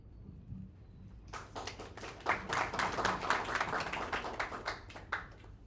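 A short burst of applause from a small group, starting after a quiet moment, building quickly and continuing steadily for several seconds.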